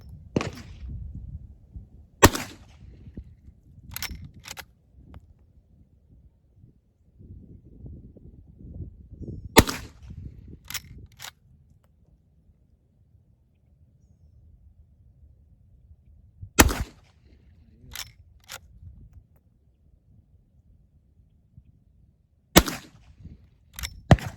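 Sharp gunshots from a Rossi R92 .44 Magnum rifle ring out at an outdoor range, about six loud cracks spaced several seconds apart, with quieter rustling and handling noise in between.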